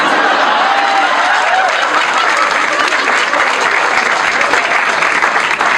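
Loud, dense applause from a large audience at a motivational talk fills the space without pause, a continuous roar of clapping with a few faint chuckles mixed in.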